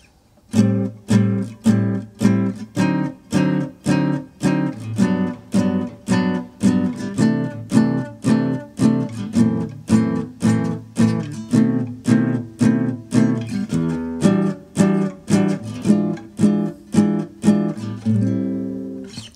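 Steady, rhythmic guitar strumming of a circle-of-fifths jazz chord progression, evenly spaced strokes ringing clearly and alone, changing chord every four strums.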